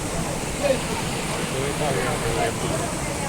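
Waterfall and river flowing at a park site, a steady broadband rushing wash of water at moderate distance, constant and even throughout with no distinct events.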